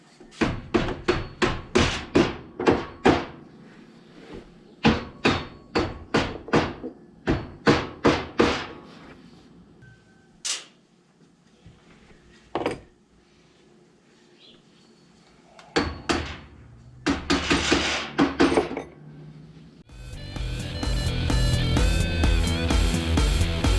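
A rubber mallet thumps an accessory mount into place on a Maverick X3, first in a quick run of close, sharp blows, then sparser knocks, more clustered strikes and a steadier rough scraping at the end.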